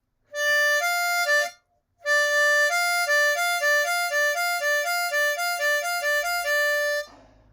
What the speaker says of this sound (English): So a trill is some people call it a warble. I'm playing hole 4 draw there and hole 5 draw.